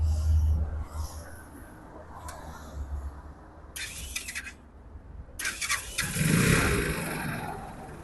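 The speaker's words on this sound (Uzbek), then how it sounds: "Samasval variantimizni hozir yurg'izdirib ishlatib ko'rsatamiz." A motorcycle tipper's engine is cranked with squealing starter bursts, catches, and settles into a close, steady running idle.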